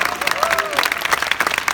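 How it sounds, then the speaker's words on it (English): Audience at a sales master class for directors applauding the panelists, a dense steady wash of clapping for nearly two seconds with a brief voice rising over the crowd. "let's give them a big round of applause"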